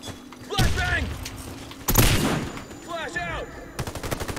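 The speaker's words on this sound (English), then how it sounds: "Flash bang!" A flashbang grenade goes off in the Warface shooter game: two loud, sharp bursts a little over a second apart, mixed with gunfire-like cracks and brief in-game voice chatter.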